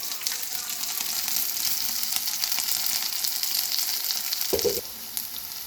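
Green chilies and finely chopped ginger fry in hot oil with a steady, close sizzle that lasts throughout, with a brief low clunk near the end before the hiss softens slightly.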